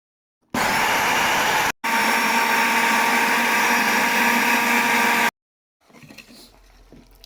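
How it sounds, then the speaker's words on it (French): A kitchen blender purees cooked onions, tomatoes and chili pepper for a West African kplala sauce. It runs in two loud bursts, a short pulse then a longer run, followed by faint clattering. "je viens les retirer pour les écraser ou les mixer"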